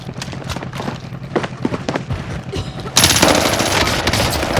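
Close, rapid full-auto bursts from a 1911 pistol in the Call of Duty Warzone video game, with scattered shots first and then a loud continuous fusillade in the final part.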